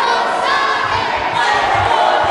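A wrestling match crowd roars and shouts continuously, a dense loud wall of cheering voices with faint thuds underneath.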